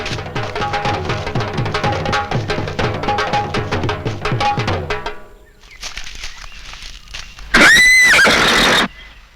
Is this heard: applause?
no